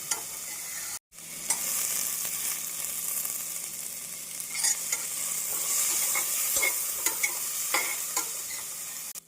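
Onions sautéing with ginger garlic paste, green chillies and curry leaves for tomato biryani, a steady close sizzle with scraping stirs and spoon clinks, broken by one brief silent gap near the start.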